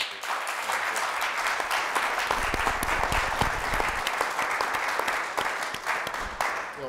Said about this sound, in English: Would you please offer another round of applause for our fantastic.